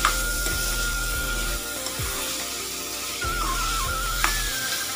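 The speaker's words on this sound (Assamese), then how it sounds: "এইখিনি মই এতিয়া গেছটো চিমত ৰাখি 10-15 মিনিটৰ কাৰণে ভাজি থাকিম।" Potatoes frying in a pan over a low gas flame, giving a soft continuous sizzle with a few light scrapes and knocks, close by and with no talk.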